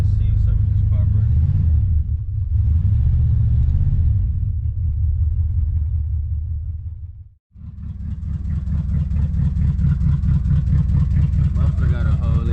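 A 1979 Chevrolet Malibu coupe with a suspected carburetor fault and a holed muffler runs under held throttle, a loud uneven rumbling idle that stumbles and misses, dropping out briefly before picking back up, with someone talking over it.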